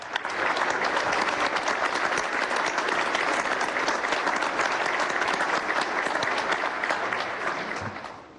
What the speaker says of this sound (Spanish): Aplausos para el presidente del Estado Plurinacional de Bolivia